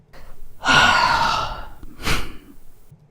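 A person's breathing recorded close on a voiceover microphone: one long, loud inhale-like gasp, then a shorter sharp breath a moment later, in otherwise quiet room tone.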